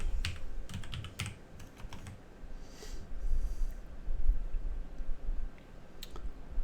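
Keys on a computer keyboard clack in a quick, uneven run of close taps, with brief gaps between the short bursts.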